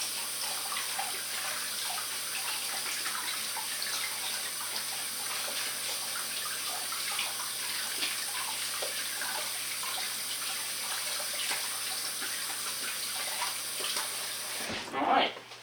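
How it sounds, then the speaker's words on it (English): A kitchen tap runs steadily for several seconds as someone washes cookie dough mix off their hands, a continuous hiss of water splashing into a sink that stops abruptly near the end. "I'm gonna wash my hands very quick here, so I can get all this mix off me."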